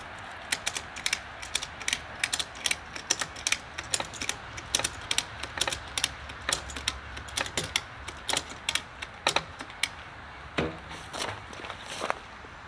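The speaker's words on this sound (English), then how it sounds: "Get it as tight as you can by hand, and then start ratcheting." A hand ratchet is cranked to tighten a fence, sending out a long run of crisp, close clicks in quick, uneven bursts with brief pauses between strokes.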